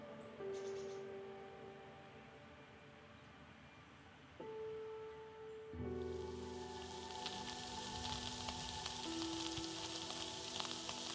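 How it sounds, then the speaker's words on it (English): Intense rain begins falling in a forest during the red deer rut in central Europe, a dense broadband hiss that swells up after a quieter stretch with steady tones, then stays loud and continuous to the end. "It started to rain quite intensely, which I don't mind at all."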